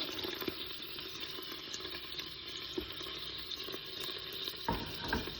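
A small onion fries on a strong browning setting in a Cookeo multicooker, giving a steady close sizzle with a few soft stirring knocks and no voices.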